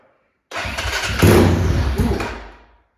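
A GPX FSE 250 motorcycle fitted with a new PWK carburettor cranks and catches, its engine bursting loudly to life close by after a moment of silence, revving unevenly for about two seconds before dying away, with no talking.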